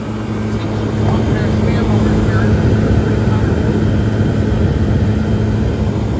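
A GE Superthrust fan and a Comfort-Aire QM fan run together, giving a steady, loud whooshing drone with a low motor hum that holds constant throughout.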